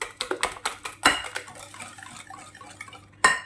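A spoon clatters and scrapes rhythmically against a bowl while chocolate coconut cake batter is mixed, quick close clinks with a louder knock near the end, no talking.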